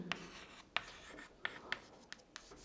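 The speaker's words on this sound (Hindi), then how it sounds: "यहीं पर एक स्टार लगा के पॉइंट लिखेंगे।" Marker or chalk writing points on a board during a biology lesson, several short scratchy strokes spaced irregularly, close and fairly quiet, with no talking.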